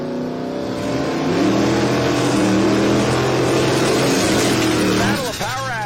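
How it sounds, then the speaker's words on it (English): Trans Am drag car spinning its tires and then launching hard down the strip, a loud sustained engine roar with a rising revving pitch near the end, close by over crowd and announcer talk. "Jesse Lesko once again spins the tires of the Trans Am. This time he gives it a quick pedal and is off to the races."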